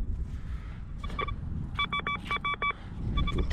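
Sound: metal detector signal tone, Golden Mask 4 PRO

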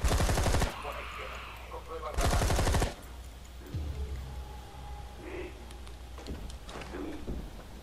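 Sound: machine gun fire in video game Zombi U

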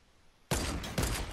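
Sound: sniper rifle shot in the video game Fortnite

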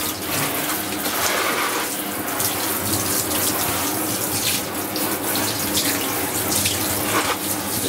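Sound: rinsing a mouse pad under running tap water

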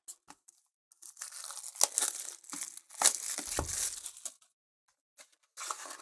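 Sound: opening Magic March of the Machine collector booster packs

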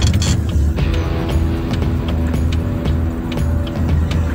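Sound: Mercedes-Benz car driving on a test drive

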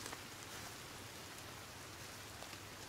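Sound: rain in video game Sons of the Forest

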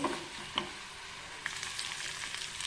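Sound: onions and tomatoes sautéing in pan on low flame

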